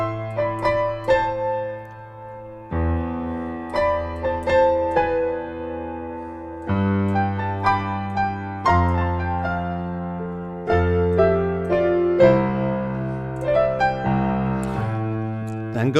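Piano plays the intro to a song in a looping chord pattern, with sustained low chords and a small melodic flourish near the end, moderately loud with no talking.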